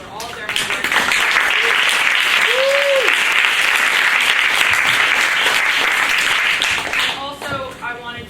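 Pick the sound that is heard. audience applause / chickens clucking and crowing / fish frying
audience applause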